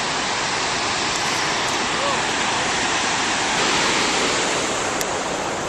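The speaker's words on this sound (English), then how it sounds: "Look at the waves." Ocean waves wash in as a steady, broad surf roar, close and continuous with no distinct breaks, filling the whole stretch on an evening walk by the shore.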